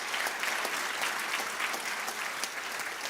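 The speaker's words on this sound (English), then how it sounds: "Please give him another round of applause." Sustained applause from an audience at an agricultural awards gala ceremony in the Western Cape, a dense steady wash of clapping hands filling the room throughout.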